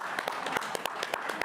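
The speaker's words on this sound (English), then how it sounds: "We'll clap for you again." Audience applause at a council meeting, a steady patter of many hands clapping with sharp individual claps standing out, fairly close and continuous throughout.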